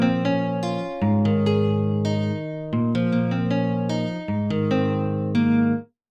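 A classical acoustic guitar preset from a MIDI plugin plays a series of full, ringing chords in a steady rhythm, each sustained clearly and alone before the last one stops abruptly.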